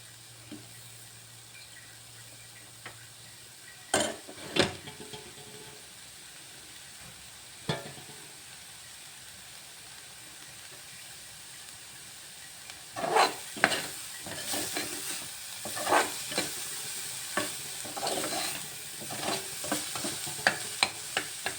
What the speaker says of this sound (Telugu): చూసారా ఎంత కలర్ మారిపోతుంది బ్రౌనిష్గా వస్తుంది అంటే బాగా ఫ్రై అవుతుంది